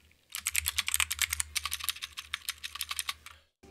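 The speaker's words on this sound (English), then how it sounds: "I love me some clicky switches and ka-chunk-ka-chunk" Rapid, clicky typing on a MageGee MK-Box mechanical keyboard, loud and close, with sharp keystrokes in a fast uneven rhythm before stopping abruptly.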